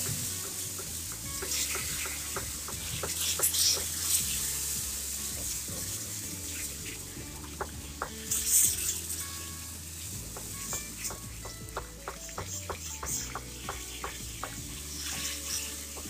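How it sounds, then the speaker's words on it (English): Sugar water poured into atta roasting in ghee for kada prasad halwa, a steady loud sizzle with continuous stirring and scraping in the pan, close up throughout. "Now this is the time we have to add the sugar water in this"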